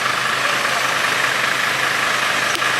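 A truck engine runs steadily and loudly nearby with a constant broadband roar and no pauses, the truck stuck in soft, rain-soaked dirt.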